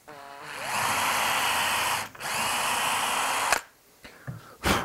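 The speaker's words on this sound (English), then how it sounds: "what we have to do there is drill a small 1/4 inch hole" A power drill whines up to speed boring a small 1/4 inch hole in a wooden drawer, running steadily in two bursts, briefly pausing between, then stops with a few small clunks.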